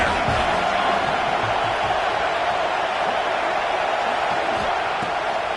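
A football stadium crowd keeps up a loud, constant roar of cheering and noise that fills the whole stretch without a break.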